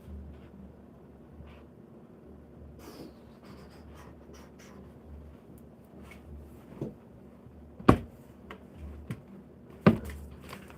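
Pen or pencil moving by hand across paper in short, soft scratching strokes, close and quiet, with a couple of sharper taps or knocks near the end.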